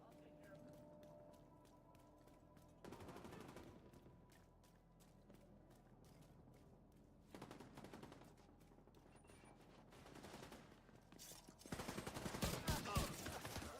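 Gunfire in The Division 2 video game: several bursts of rapid shots, loud and close, separated by quieter stretches of in-game ambience, with the heaviest, densest volley at the end.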